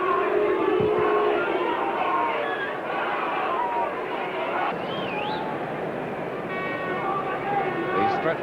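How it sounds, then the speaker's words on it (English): The Stretford End crowd at a Manchester United vs Arsenal football match murmurs and chatters as a steady distant hubbub, with occasional whistles and calls rising above the babble. "Stretford end crowd settling down for the start of the second half."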